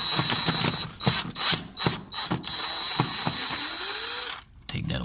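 A screw gun backs screws out of a door closer, giving close ratcheting, whirring bursts in short pulses, then a steadier grinding run before a brief pause and a final burst, with a voice talking now and then.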